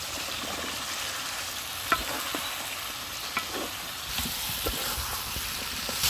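Bottle gourd and potato pieces fry in a pan of oil with chili, coriander and turmeric powder, giving a steady close sizzle with occasional stirring scrapes and clinks and no talking.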